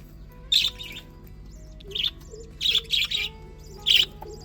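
Pet birds kept at home call out in sharp, bright chirps, several short bursts spaced irregularly over a low steady hum, fairly close and clear.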